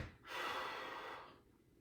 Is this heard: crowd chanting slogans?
no